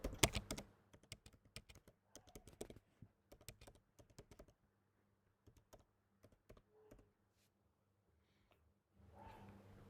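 Computer keyboard typing in quick bursts of clicky keystrokes, close and fairly quiet, with pauses between runs and a soft rustle near the end.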